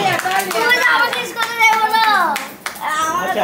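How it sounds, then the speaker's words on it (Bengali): A family gathered for a day-after-Eid celebration claps for a grandfather and grandson, a quick burst of hand claps mixed with lively, overlapping adult and children's voices close by. "সো একবার তালি দাদা নাতির জন্য"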